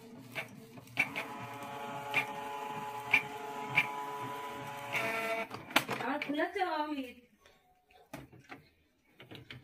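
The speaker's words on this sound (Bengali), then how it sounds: "এটা কালার প্রিন্ট হয়ে গেল" Brother home inkjet printer printing a colour page, a mechanical whir with regular rhythmic clicks and pulses, then a feeding and ejecting rattle, with talk present.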